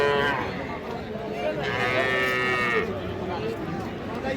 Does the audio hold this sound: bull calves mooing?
yes